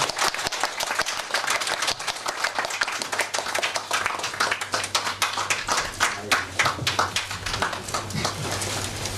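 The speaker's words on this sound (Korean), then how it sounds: "박수로 축하하겠습니다." A church congregation at an appointment ceremony claps in celebration, with distinct hand claps in an irregular rhythm that carry on for several seconds, close and fairly loud.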